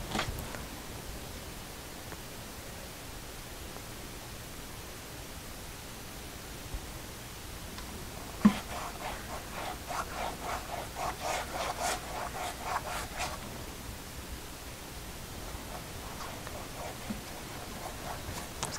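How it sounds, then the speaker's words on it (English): A brush spreads high-gloss Liquitex varnish across an acrylic pour painting, giving soft, quiet, repeated rubbing strokes that come in a brief cluster near the middle, over a faint hiss. "I'm just brushing this on with a brush."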